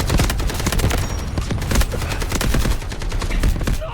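Rapid bursts of automatic gunfire from an AKM in the video game Delta Force, dense and loud, with close sharp shots rattling continuously throughout.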